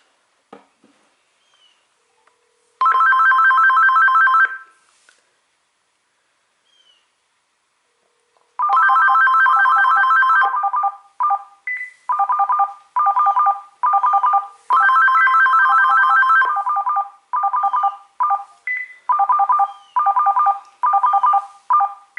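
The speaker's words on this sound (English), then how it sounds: "it does have the same ringer as the newer ringtones, so let's go ahead and call it" An AT&T SynJ SB67118 telephone rings in repeated electronic bursts, first a long trill, then a pause, then longer sequences of short rhythmic pulses, loud and clear with no voices.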